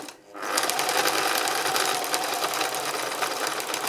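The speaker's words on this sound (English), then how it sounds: "we'll go over to my sewing machine, I'll make a choice and we'll do some stitching" Domestic sewing machine running steadily and close, stitching fabric for autumn-themed craft work, a continuous whirring motor with rapid needle rhythm after a brief quiet start.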